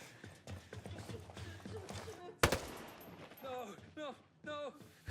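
ASR rifle fire in Ghost Recon Breakpoint rings out in one sharp, loud shot amid quieter game ambience, with a voice talking before and after.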